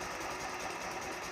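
A repaired motorcycle engine runs steadily after its lever switch was fixed, giving a continuous, fast, buzzing mechanical drone close by with no pauses and no voices over it.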